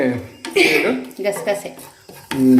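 Peanuts roast in a kadai on the stove, and a ladle clatters and scrapes through them in loud, close bursts. Voices can be heard in between the stirring.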